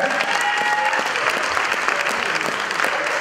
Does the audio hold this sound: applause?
yes